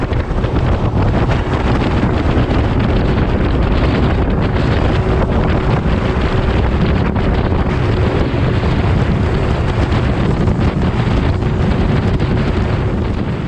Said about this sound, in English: here it is, music to my ears, the whining of two-stroke